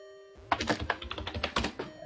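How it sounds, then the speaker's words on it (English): Rapid clattering keystrokes on a computer keyboard start abruptly after a quiet moment and run in an irregular, steady burst, close and clear, with a faint tonal hum underneath. "I hear typing."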